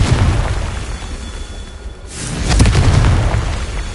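Confringo blasting spell from Hogwarts Legacy bursting into a loud, close explosion after a quieter stretch, followed by a sustained rumbling boom that carries on to the end.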